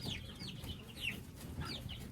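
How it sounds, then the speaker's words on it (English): A gray hen with feathered feet gives soft clucks and short chirpy calls in a farmyard coop, faint and intermittent over a low background rumble. "This is one of the surprise chickens that I was talking about."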